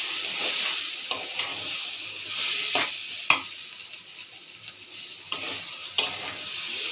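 Washed rice frying and being stirred in a pan with ginger, cumin and garlic, a steady close sizzle broken by several sharp scrapes and knocks of the spoon, with no talking.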